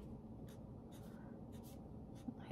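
Pen or pencil strokes drawing quick lines on paper for a zebra's mane, several short scratchy passes spaced through the moment, close and fairly quiet with no talking.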